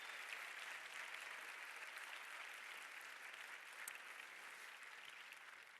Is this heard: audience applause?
yes